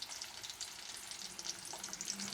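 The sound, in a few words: chilli and garlic frying in a pan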